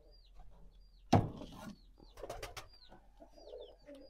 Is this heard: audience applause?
no